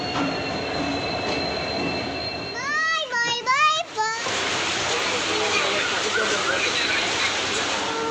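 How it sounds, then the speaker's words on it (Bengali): The Saraighat Express pulls out of Kamakhya station, its steady rolling rumble of wheels and carriages running throughout, broken midway by a brief stretch of voices in the carriage before the travel noise swells again. "ছেড়ে দিল ট্রেন কামাখ্যা থেকে।"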